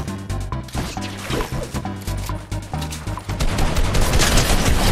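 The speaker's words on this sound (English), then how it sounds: "Oh my god, what was this shotgun? Ranger shotgun." Ranger shotgun blasts in Fortnite battle royale ring out as a rapid run of loud, punchy shots with crashing impacts, followed by a denser burst of chaotic gunfire and smashing at the end, no talk.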